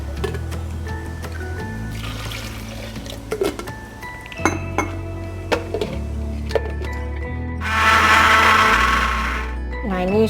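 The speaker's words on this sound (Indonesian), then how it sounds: "Nah ini sudah di blender ya." A kitchen blender whirs in a loud burst near the end, blending coriander spice with water, after spoon clinks and taps against dishes.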